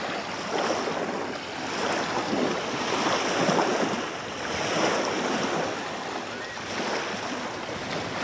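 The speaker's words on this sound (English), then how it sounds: "it's a little windy. The water's choppy a little bit, but it's not too bad." Choppy water lapping at a mountain lake shore while wind rushes steadily across the microphone, a continuous broadband wash that swells and eases in gentle surges, with no voices.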